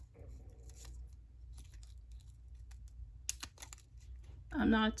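Quiet snipping clicks of sewing scissors cutting, a few crisp cuts scattered through, with a short spoken phrase near the end.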